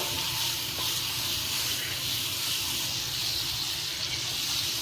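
Butter melts in a hot pan for a baked potato and mushroom dish, giving a steady, close, continuous hiss and sizzle with no talking.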